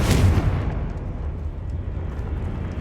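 A Confringo fire spell explodes in Hogwarts Legacy on PS5: a loud, sudden blast followed by a long rumbling decay that slowly fades.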